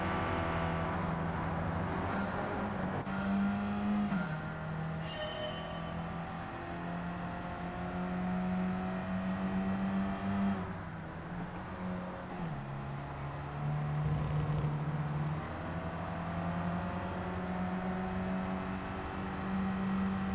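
Car engine in Gran Turismo 7, a European classic compact, droning steadily with rising and falling pitch as it accelerates and shifts along the track, continuous and fairly close.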